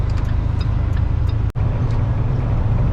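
Heavy truck with a 10-speed manual transmission driving, a loud steady low engine drone with road rumble throughout and a brief dropout partway through.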